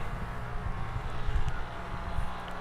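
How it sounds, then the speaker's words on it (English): A fume extractor runs in a workshop during laser cutting of wooden shelves, giving a steady, fairly loud droning fan hum with slight fluctuations and no talking. "In this case, we're using the fume extractor."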